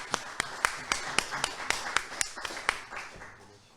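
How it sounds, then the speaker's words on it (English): A handful of people at a Ramadan quiz award ceremony in Toronto clap in a sparse, uneven rhythm, sharp individual claps ringing out close by before tapering off. "I want to call Shayan Anwar in your big applause."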